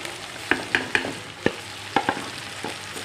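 Tomatoes and green chillies are stirred into frying chicken in a pan for biryani, a steady soft sizzle broken by a series of sharp scraping utensil strokes, close and without talk.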